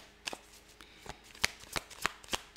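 A deck of cards is shuffled close by in a quiet room, giving a quick run of sharp riffling snaps and flicks in an uneven rhythm.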